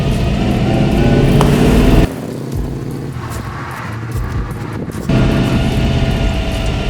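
A 1965 Ford Mustang Fastback GT350H tribute with a 302 high-performance Windsor V8 idles in a loud, steady rumble, dropping to a lower, rougher drone for a few seconds before returning to full level, with no talk.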